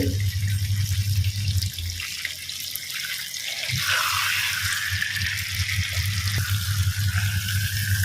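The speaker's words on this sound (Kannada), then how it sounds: "ಈಗ ಮೀನು ಸ್ವಲ್ಪ ಫ್ರೈ ಆಗಲಿ ಒಂದು ಸೈಡ್ ಫ್ರೈ ಆಗುವಾಗ ಟರ್ನ್ ಮಾಡಿ ಹಾಕಿ" Fish dusted with turmeric and salt sizzles steadily in oil on an iron tava, a loud continuous hiss and crackle close up with a brief shift partway through and no talk.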